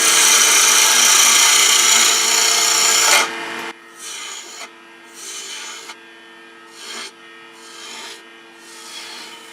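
A wooden miniature bird house turns on a lathe while a tool tapers it, a sustained loud scraping cut for about three seconds, then several short, quieter cutting passes with gaps of steady motor hum between them.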